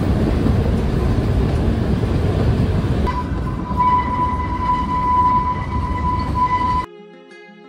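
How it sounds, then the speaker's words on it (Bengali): Kalka–Shimla toy train running through hills, a continuous loud rumble and rattle of carriages with a steady high whine joining midway, before the noise cuts off sharply near the end. "আমাদের ট্রেন রাতের ঘন কুয়াশাচ্ছন্ন অন্ধকার কাটিয়ে নতুন দিনের আলোতে প্রবেশ করেছে"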